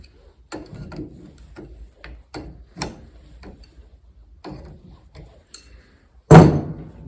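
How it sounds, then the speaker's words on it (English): Jack bolt nut being run down to compress the cancelling cam collar on a 1969 Firebird turn signal switch, a series of sharp metallic ticks and clicks, ending in one loud clunk. "Now you run the jack bolt or nut down. And it should compress this collar."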